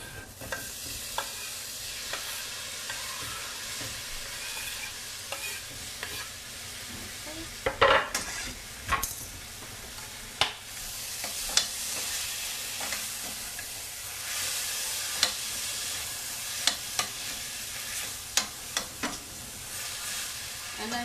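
Chopped tomatoes and red chili powder fry for a chickpea curry, a steady soft sizzle under repeated clinks and scrapes of a spoon against the pan, with brief bursts of louder stirring.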